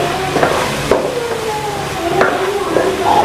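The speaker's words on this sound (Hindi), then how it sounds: "और इन चीज़ों को बहुत ही अच्छे तरीके से हम भून लेंगे।" Salt, turmeric and red chilli roasting in a pan for dal palak, with a steady close sizzle and a few sharp scrape-and-stir clicks, alone without talk.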